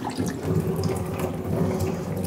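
Coolant drains from a Massey Ferguson 240 tractor in a steady, close, rushing and splashing stream with no talking.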